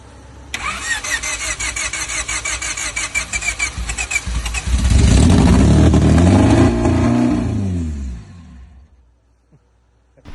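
Turbocharged Honda D16Z6 engine in an AWD Integra build test-firing on starter fluid: starter cranking, then the engine catches and roars loudly for a few seconds before sputtering out and going quiet.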